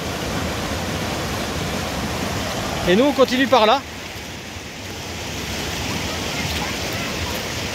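Steady broadband rush of a forest waterfall heard from a distance on a trail in Ain, France, continuing under a man's brief speech in the middle.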